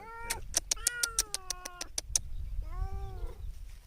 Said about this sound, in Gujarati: આ મારી મીંદડી છે